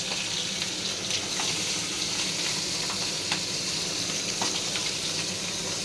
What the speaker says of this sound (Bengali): তা মাছের মাথাটাকে ভেজে নিচ্ছি।